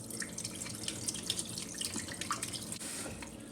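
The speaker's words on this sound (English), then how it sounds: "Use a cool tap water wash bean sprouts." Cool tap water runs steadily over bean sprouts being rinsed in a kitchen sink, a close, continuous splashing stream with small drips and no talking.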